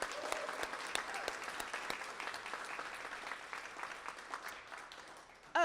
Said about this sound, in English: So we're gonna clap for Jamie